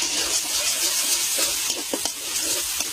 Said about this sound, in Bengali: এখন পেঁয়াজ আর কাঁচামরিচ ফালি তেলের মধ্যে ভেজে নেব।